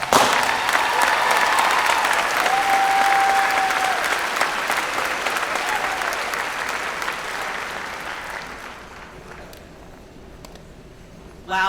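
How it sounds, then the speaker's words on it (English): A school district convocation audience gives sustained, dense applause that stays loud and steady for several seconds, then gradually thins and fades toward the end. "Ladies and gentlemen, give it up for Malia Hess."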